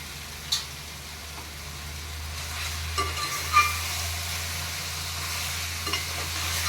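Fish pieces coated with salt and chili go into a pan of okra, giving a soft, steady frying sizzle with a low hum beneath and a few faint clicks and knocks, no talking.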